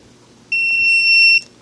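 A Viper/Clifford 3305V car alarm remote gives a single clear, loud, steady high-pitched beep close by, lasting just under a second against quiet background.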